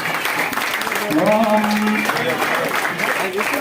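Crowd clapping at a Sita Rama Kalyanam temple wedding ceremony in Chegunta, steady dense applause throughout with a voice speaking over it.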